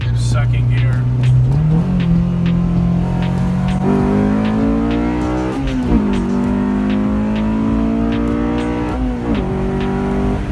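Tuned Honda Civic Si accelerating hard in second gear, engine note climbing steadily with shifts in pitch as revs build, loud and close from inside the car, with people talking over it.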